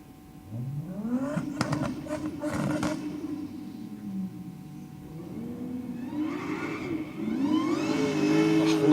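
Supercharged diesel drag car launching and accelerating hard down the Sydney Dragway strip on a diesel-themed race night, a loud rising roar with the supercharger whine climbing in pitch, the engine swelling louder toward the end.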